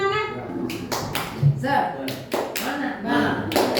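Sharp, rhythmic hand claps from a group land in a quick patterned sequence, mixed with voices chanting along, a "tepuk semangat" spirit clap at a school discussion event.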